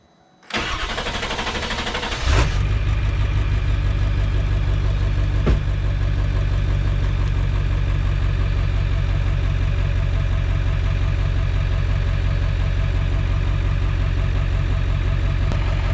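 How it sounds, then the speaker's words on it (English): A 7.3 Powerstroke turbo diesel with a 4-inch exhaust cranks and fires after a brief starter whir, then settles into a loud, steady, deep idle that runs for over ten seconds. "here's the moment you guys have all been waiting for"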